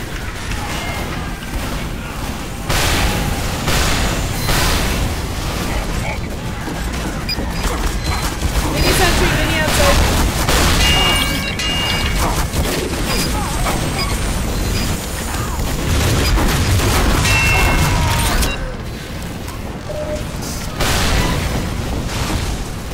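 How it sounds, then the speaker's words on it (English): Repeated grenade blasts in the video game Team Fortress 2, thrown inside a spawn room: loud booms and crashing bursts recur through a dense, busy battle mix with steady chaotic noise throughout. "There's just a guy throwing grenades inside his spawn"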